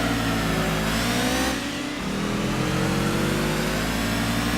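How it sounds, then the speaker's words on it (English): Boxer-engine car in Gran Turismo 2 revving loudly and steadily, the engine note dipping briefly mid-clip before climbing back up, heard alone with no talk. "That's a boxer engine in this thing."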